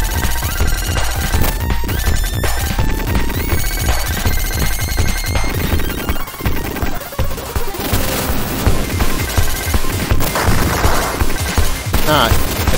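Loud, dense bursts of machine gun fire in a video game, rapid overlapping shots mixed with explosions and crashes, relentless and close across the whole stretch.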